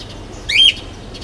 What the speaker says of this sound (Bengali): আর ককাটেল পাখি অনেক জোরে জোরে ডাকাডাকি করে